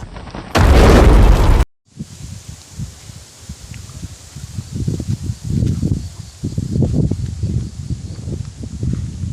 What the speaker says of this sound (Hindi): टारगेट सामने है, गिरा दो इस पे मिसाइल।